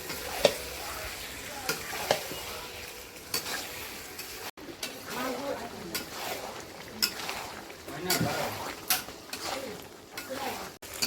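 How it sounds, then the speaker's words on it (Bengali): Chicken pieces and tomato are stir-fried in a pan for a Bengali kosha, a soft sizzle under repeated scraping and clinking of a spatula against the pan, fairly quiet and close. "এখন এই মাংসগুলোকে আমি ভালো করে এখন কষাবো।"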